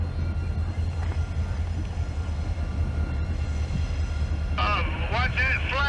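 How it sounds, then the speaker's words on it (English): A CSX freight train passes in Baldwin, Florida, a steady low rumble holding throughout, with people talking excitedly over it near the end. "It's gonna be our first CSX train."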